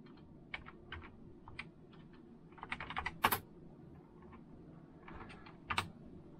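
Keys click on a retro Intel/AMD 8088 PC keyboard in quick, irregular bursts of soft taps, fairly close and quiet against faint background hiss.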